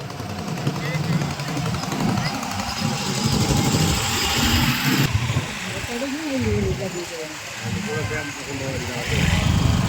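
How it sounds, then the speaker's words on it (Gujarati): Busy road traffic at a fair near Gopnath during a Ram Katha, with motorcycle and car engines idling and rumbling close by in a noisy, continuous crowd of sound while people talk. "ટ્રાફિક ટ્રાફિક ભાઈ ટ્રાફિક"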